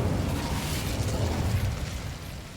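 Fire spells Confringo and Incendio burst in Hogwarts Legacy, a dense roaring blast of fiery explosions that rumbles steadily for a couple of seconds before easing slightly, loud and close.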